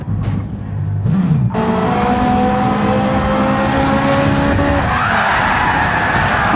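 Racing cars in Gran Turismo 7 skid and spin in a multiclass crash at Tokyo, a loud tyre screech giving way to several engines revving and droning close by, with no talking.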